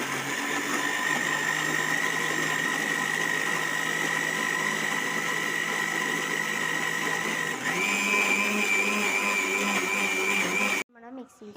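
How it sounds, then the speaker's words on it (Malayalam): A kitchen mixer grinder whirs steadily while blending banana, a loud continuous motor drone that shifts slightly in pitch partway through before cutting off abruptly. "ഇനി നമുക്ക് ഇത് മിക്സിയിലേക്ക് അടിക്കാം."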